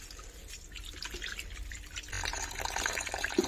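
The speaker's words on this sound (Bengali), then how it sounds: "প্রথমে মাংসগুলো ধুয়ে নিই আগে" Raw chicken pieces being rinsed in water for a bamboo chicken recipe, with dripping and splashing that grows steadier and louder after the first two seconds, close by and with no talk.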